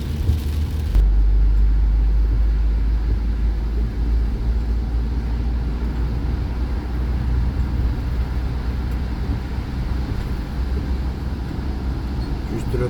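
A camper van drives along a road near Fréjus, heading toward the Bouches-du-Rhône. A steady, loud engine and road rumble runs throughout with no clear breaks.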